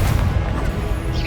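The Confringo fire blast spell from Hogwarts Legacy erupts as a dense, loud explosive boom with crackling roar, sustained and close, amid chaotic combat noise.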